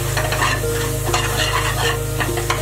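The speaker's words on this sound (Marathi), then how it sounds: "व्यवस्थित परतून घ्यायचं आहे।" Turmeric, garam masala, Kashmiri red chili powder and spicy masala frying in a pan for mutton rassa, a loud constant sizzle with repeated spoon scrapes stirring the mixture, close up and without talk.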